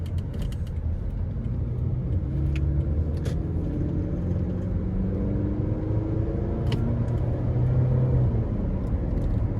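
A 2008 Toyota Camry with a 2.4-liter four-cylinder engine pulls in second gear, its steady engine drone and road rumble heard from inside the car, rising gently in pitch.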